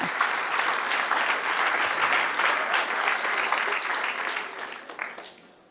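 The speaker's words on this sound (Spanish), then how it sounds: "Denle un aplauso al que reina." A congregation bursts into warm, dense applause during a Bible class, loud sustained clapping that holds for several seconds before tapering off at the close.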